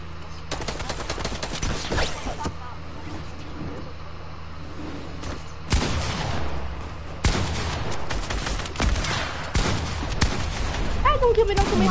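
Bursts of gunfire ring out in an online shooter game, several rapid volleys with clear gaps between them, loud and close, while players chatter over the shots.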